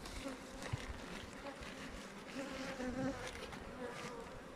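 A continuous low buzzing of many honey bees around a hive fills the air, steady and close, with faint background noise.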